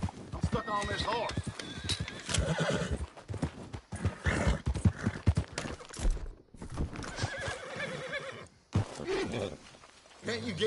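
Horses neighing and hooves clip-clopping in the video game Red Dead Redemption 2, mixed with frequent shouting and talk from game characters throughout.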